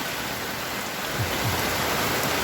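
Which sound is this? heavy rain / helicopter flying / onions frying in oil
heavy rain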